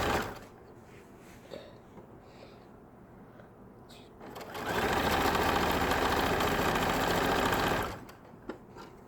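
A sewing machine stitches a fabric hem with horsehair braid in one steady, close run of about three seconds after a quiet stretch.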